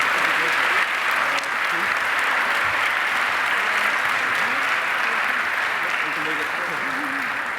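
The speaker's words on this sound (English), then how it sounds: "Please give a round of applause for all our participants." Sustained applause from an awards ceremony audience honoring participants at a lecture forum, dense, even clapping throughout with faint voices and cheers beneath it.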